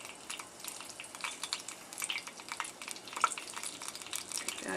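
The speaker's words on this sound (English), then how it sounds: "what we're looking for is that little shimmering sizzling" Oil sizzles softly in a pan while cooking arroz con gandules, a faint, continuous crackle with scattered small pops, close but quiet.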